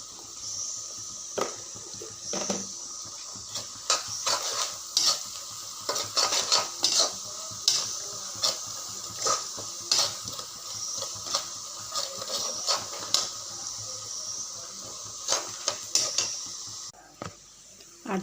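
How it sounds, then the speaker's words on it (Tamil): Onions and vegetables frying in a pan while being stirred, with faint sizzling and scattered clinks and scrapes of a utensil against the pan, fairly quiet and without speech. "அடுத்து காய்ஸ் வெங்காயம் நல்லா ஃப்ரை ஆயிடுச்சு."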